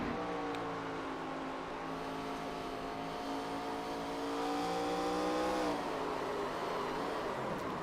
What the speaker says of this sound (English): You heard me just try to get back into the throttle, and the car spun it around.